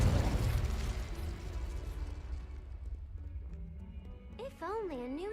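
Spell blasts in Hogwarts Legacy, opening with a loud fiery burst that decays into a rumbling tail, followed by quieter magical shimmer and rising warbling tones; no speech over the blasts.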